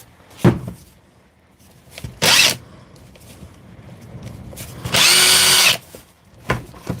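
A power drill with a sticky, dodgy switch runs in short bursts, a brief spin followed by a longer whir, set among clicks and handling knocks close by. No one talks.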